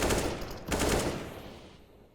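Rifle fire crackles in a Counter-Strike match between Endpoint CeX and Budapest Five, with two quick rapid-fire bursts at moderate volume and a short gap between them, fading afterward.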